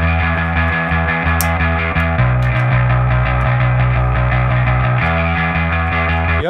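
A growling bass layered with a grinding, distorted mid-range guitar played through an amp and graphic equaliser, dense and loud with sustained chords shifting every couple of seconds and no voices.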